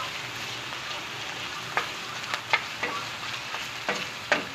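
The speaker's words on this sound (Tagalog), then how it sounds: "Kailangan maluto natin ang ating sahog" Ingredients for a banana heart dish stir-fried in a pan: a soft steady sizzle broken by several sharp scraping clinks of a utensil against the pan, close and moderately quiet.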